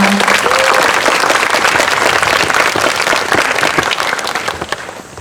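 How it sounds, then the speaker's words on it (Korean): Loud, sustained applause from a large audience at a young Buddhist camp, dense clapping throughout that gradually thins toward the end. "큰 박수 부탁드립니다."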